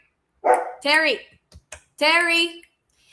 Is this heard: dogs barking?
yes